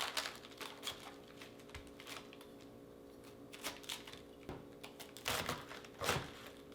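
A sharp Kyoku Daimyo series kitchen knife cutting the core out of a big, thick cabbage, giving quiet crunchy snaps and crackles in an irregular rhythm, close and soft, with no talking.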